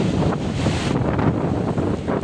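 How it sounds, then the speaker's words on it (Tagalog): Strong typhoon wind beside the Marikina river, a loud continuous roar buffeting the microphone with steady broadband rumble and no voices. "Malakas ang hangin, malakas ang hangin."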